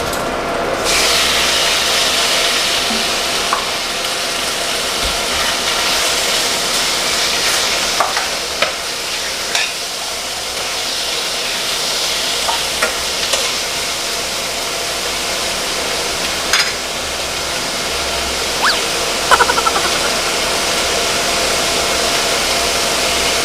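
Pork frying in a pan for a home-cooked dinner, a loud, steady sizzle close by, with scattered clinks and scrapes of stirring over a continuous low hum.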